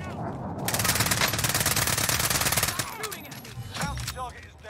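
Rapid automatic gunfire rattles in a long sustained burst in the Warzone video game, close and loud, then breaks into scattered shots and echoing impacts as players talk over it.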